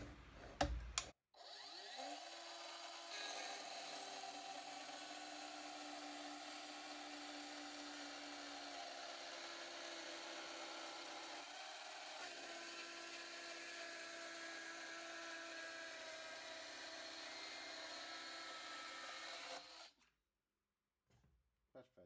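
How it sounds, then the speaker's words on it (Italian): Parkside PHKSA 12 A1 12V cordless circular saw cutting freehand through wood, a steady high-pitched whine running unbroken for about twenty seconds at close range, with a brief dip midway and a spin-down at the end. "Faccio delle prove di taglio a mano libera."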